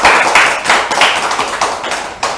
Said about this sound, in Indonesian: Beri tepuk tangan dong teman-teman.